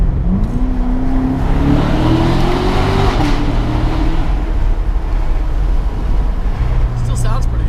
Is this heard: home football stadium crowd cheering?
no